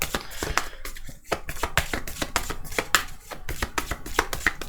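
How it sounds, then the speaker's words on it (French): Tarot cards being shuffled by hand, a dense run of crisp, rapid riffling slaps close up and fairly loud, broken by a couple of brief pauses. "je vais mélanger les cartes"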